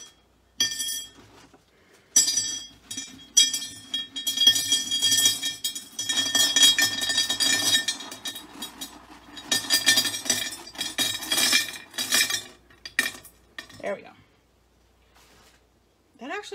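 Glass marbles clink and clatter repeatedly as they drop into a glass block in irregular bursts, fairly loud and close, with a voice talking in between.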